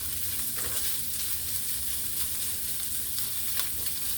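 Chipped beef sizzles and fries steadily in a hot pan, a continuous crackling hiss with a few faint scrapes of stirring and no talking.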